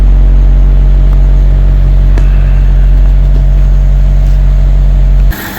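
A repaired car engine idles smoothly and steadily, a loud, even low rumble with no knocking or stutter, cutting off just before the end.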